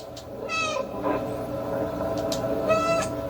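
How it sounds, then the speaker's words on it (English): Several short meows from a cat in a PlayStation 4 video game ring out in separate bursts, moderately loud over a steady background hum. "I love that you can actually make him meow"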